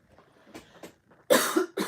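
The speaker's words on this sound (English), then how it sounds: "Excuse me if I do have a cough or two during this reading." A person coughs nearby: a few faint throat sounds lead into a loud, harsh cough burst and then a second sharp cough, alone and close.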